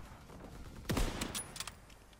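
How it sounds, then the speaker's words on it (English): A single sharp rifle shot rings out near the middle, with a short trailing echo and a few fainter sounds after it, as a sniper rifle fires in the Call of Duty: WW2 multiplayer beta. "Let's go for some sniping."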